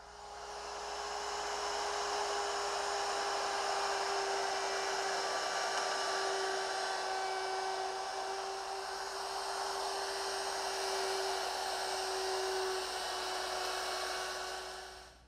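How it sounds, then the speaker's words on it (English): Overarm router with a round nose bit plowing flutes into a wood workpiece for a chest on chest, a steady high-pitched motor whine with a bright cutting tone held continuously and loud at close range. "now I'll just lower the router in and plow out the material"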